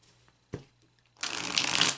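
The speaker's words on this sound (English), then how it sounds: "I'm going to take a few moments to shuffle the deck" A deck of oracle cards is shuffled on a table, starting with a single soft tap and then breaking into a loud, dense riffling burst that continues to the end, with no talking.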